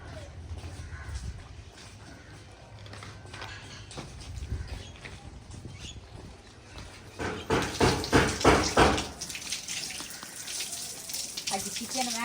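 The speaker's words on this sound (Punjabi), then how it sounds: "ਕਿਚਨ ਦੇ ਜਿਹੜੇ ਬਰਤਨ ਆ ਨਾ ਉਹ ਧੋਵਾਂਗੀ" Kitchen utensils and dishes are washed by hand under a running tap, with steady water flow and clatter that grows louder and splashier midway, a voice talking faintly in the background.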